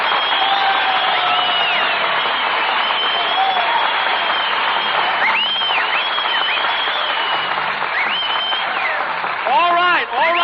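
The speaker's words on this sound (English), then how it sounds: "Stop applauding." A radio studio audience breaks into sustained, even applause for guest star Marilyn Maxwell, a steady, thin-sounding clapping that runs on for several seconds with a voice briefly heard near the end.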